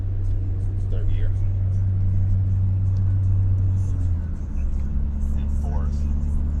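A 1987 Honda Prelude Si engine pulls steadily in third gear at cruising speed, a constant low drone and hum heard from inside the car, with faint speech over it.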